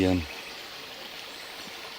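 A creek in the bush flows with a steady, soft rushing hiss that carries on alone after a brief voice at the very start.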